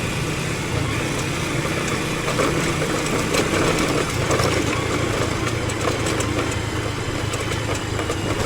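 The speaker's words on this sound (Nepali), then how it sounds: "साह्रै बाइक हल्ला गर्ने भएको छ हौ" A noisy motorbike engine runs steadily, a loud continuous rough drone with rattling texture throughout, heard up close on a road in rainy weather.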